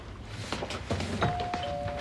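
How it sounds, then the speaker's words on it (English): A doorbell sounds once with a clear sustained chime over low room noise and some thumping movement in an indoor sitcom scene. "Dreyfuss, there's a doorbell."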